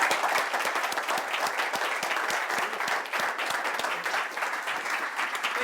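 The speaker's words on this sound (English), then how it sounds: "So please give a warm applause to Dr." An audience bursts into steady, dense applause welcoming a speaker to a lecture on meditation and consciousness, sustained clapping from a sizable crowd filling the room throughout.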